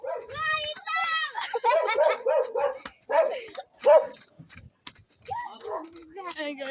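A dog barks and yips in short bursts near the start during a ghost hunt, while excited voices talk loudly over and around it.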